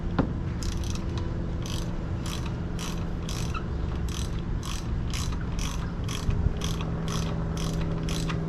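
Spark plugs on a 2022 Honda BF250D four-stroke outboard being snugged with a hand ratchet, repeated quick clicking bursts of the ratchet pawl over a steady low background hum, close and clear with no talking.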